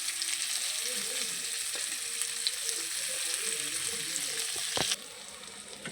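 Chopped onion, garlic paste and green chili fry in oil with a steady, moderate hiss, joined by a few light stirring knocks. The sizzle drops noticeably near the end, and nobody speaks.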